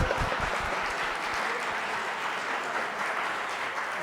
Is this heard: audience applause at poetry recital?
yes